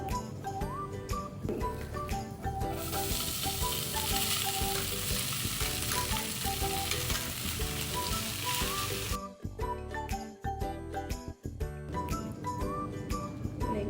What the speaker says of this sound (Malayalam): ഇനി നമുക്കിതിലേക്ക് നമ്മൾ വേവിച്ച് വെച്ചിരിക്കുന്ന ചോറും കൂടെ ചേർക്കാം.